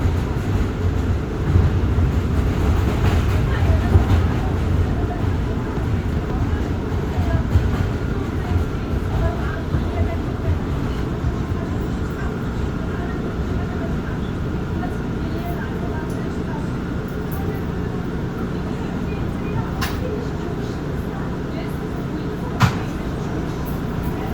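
A Queens-bound R179 subway train on the J line rumbles steadily from inside the car, a loud continuous low roar with rattles and a sharp clank near the end, while speech is faintly present.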